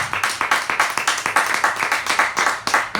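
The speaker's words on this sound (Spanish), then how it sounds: "Denle un fuerte aplauso." In a church, a congregation claps in a brisk, steady burst of applause that lasts the whole stretch, heard up close with no one speaking.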